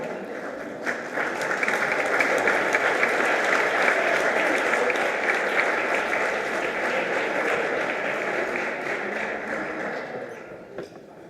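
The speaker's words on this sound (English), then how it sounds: "Let's give them one more round of applause for Comey and Myesha." An audience claps for speakers at a literacy volunteer event, sustained applause that swells and holds for around ten seconds before tapering off.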